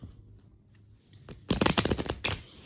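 Tarot cards being shuffled, a quiet rustle followed by a loud, close riffle of rapid flicking card edges lasting about a second, with no voices.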